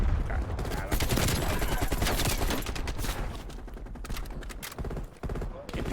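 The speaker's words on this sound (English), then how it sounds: "MP5 is still popping in this game" An MP5 submachine gun firing in a team deathmatch video game, with rapid continuous gunfire and overlapping shots mixed with other battle noise, loud and dense, easing slightly toward the end.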